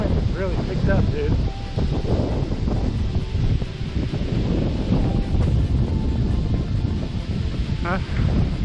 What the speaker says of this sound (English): Man, that wind really picked up